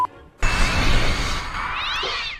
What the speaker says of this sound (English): Cat Wilhelm scream.